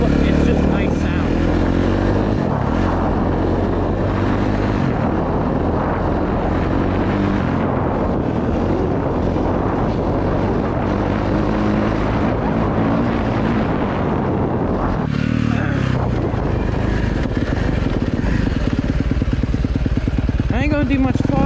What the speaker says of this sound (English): Exhaust is probably the best thing on this bike.